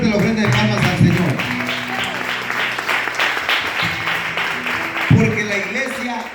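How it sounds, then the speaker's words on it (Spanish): A church congregation claps as an offering of praise during a fiery sermon, steady dense clapping mixed with loud music and voices throughout, with a strong low musical swell near the end. "dele fuerte la ofrenda de palmas al Señor"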